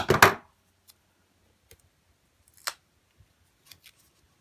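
Scissors snip off an odd end of material with one crisp cut up close, then a few faint ticks and clicks in near silence.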